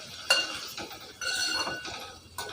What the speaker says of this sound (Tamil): இப்போ இதை லேசாக நம்ம கிண்டி கொடுத்துக்கிறோங்க.